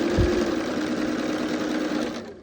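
A sewing machine runs steadily while stitching quilt pieces together, a close, even mechanical whir with a steady hum that lasts almost the whole moment before easing off at the end.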